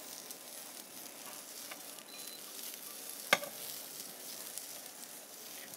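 Small cucumbers sautéing in olive oil over medium-high heat, a faint, continuous sizzle with one sharp clatter near the middle, heard at a distance in a demonstration setting.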